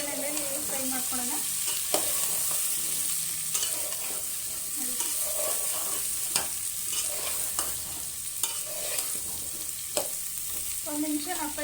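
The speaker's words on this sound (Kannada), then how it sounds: "ಇದನ್ನು ಸ್ವಲ್ಪ ಒಗ್ಗರಣೆಯಲ್ಲಿ ಫ್ರೈ ಮಾಡ್ಕೊಳ್ಳೋಣ." Chopped drumstick (moringa) pieces fry in a spicy tempering of oil for sambar, giving a steady close sizzle with repeated scraping stirs and clinks of a spoon against the pan throughout.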